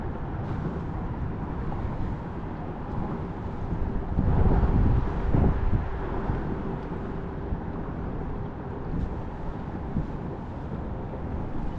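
Wind gusts across open saltwater while fishing from a small boat for croakers, a steady low rushing that buffets the microphone and swells louder for a few seconds in the middle before settling.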